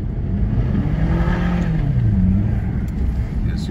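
An Audi A4 Quattro 2.0T wagon on snow tires accelerates hard with traction control switched off, its engine note rising in a close, loud revving sweep over rumbling road noise, with some talking mixed in.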